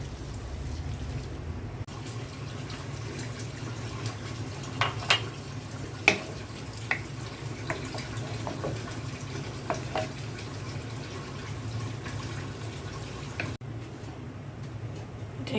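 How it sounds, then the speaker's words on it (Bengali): Water poured into a pot of sautéed vegetables with mung dal, a soft continuous trickle and splash under a low kitchen hum, faint and steady, with a few small clinks midway. "পানি দিয়ে দিচ্ছি।"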